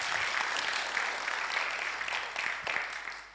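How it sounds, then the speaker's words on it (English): Steady applause from a crowd at a Software Freedom Day event, dense and continuous clapping filling the whole moment with no talking over it. "A round of applause for him"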